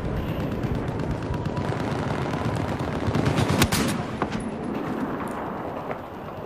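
Rapid gunfire in the video game Battlefield 4, Siege of Shanghai map, a dense continuous rattle of shots with a heavier burst in the middle, loud and close.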